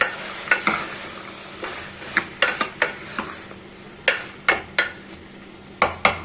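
Carrots, beans, potatoes and peas stirred in a pot for white kurma: a ladle strikes and scrapes the metal in sharp, irregular knocks over a soft background hiss, close and fairly loud.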